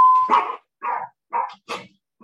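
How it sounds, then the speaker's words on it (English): A small dog barks at home in four sharp, loud bursts spaced about half a second apart, following a brief steady tone at the start. "they come and they hang out and the dog barks"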